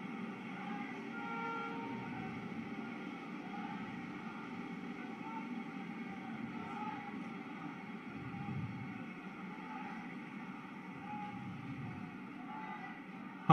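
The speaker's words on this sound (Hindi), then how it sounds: "वंदे भारत गति पकड़ते हुए" Vande Bharat Express train picking up speed at its inauguration at Howrah station, a steady, distant rumble with a sustained humming drone, with a voice speaking over it throughout.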